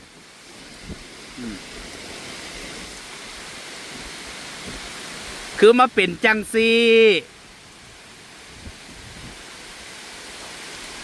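Heavy out-of-season rain pouring down behind a house until water floods the yard, a steady broadband hiss throughout, with a voice breaking in briefly partway through.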